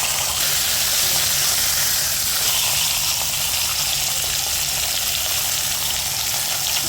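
Pieces of rohu fish dropped into hot mustard oil seasoned with turmeric and a pinch of salt give a loud, continuous, even sizzle and hiss that lasts the whole time, with no talk.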